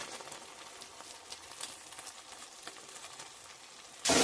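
A ginger-garlic paste with chopped tomato, sugar and Kashmiri red chili powder fries softly in a pan while being stirred, a faint crackling sizzle ending in a sudden louder burst.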